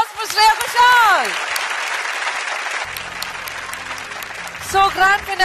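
Applause for a singer at the Star Singer Season 8 grand finale on a TV stage, a steady broad wash of clapping throughout with music tones and a voice briefly over it at the start and end.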